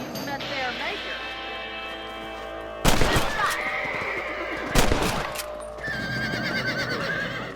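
A horse whinnies in the Western video game Red Dead Redemption amid layered game sound, with two sharp loud bursts like gunshots and a steady tonal music or ambient bed throughout.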